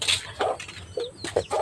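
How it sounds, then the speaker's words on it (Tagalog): Chicken clucking in a home kitchen, a few short close clucks and squawks in quick, uneven bursts, fairly loud with no talking. "pumapasok yung manok"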